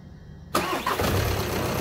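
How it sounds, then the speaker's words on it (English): A VW Passat 2.0 TDI diesel engine cranks and fires after half a second of quiet, then settles into a loud, steady rough idle close by, with no talking. "now I'm going to start the engine"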